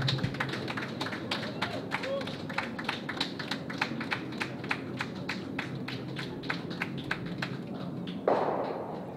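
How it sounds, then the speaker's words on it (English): A curling club crowd applauds the winning team after the 2023 Bonsqueal A event final, rapid, steady, fairly close clapping that runs throughout, with a brief louder burst near the end. "We're going to clap them on here."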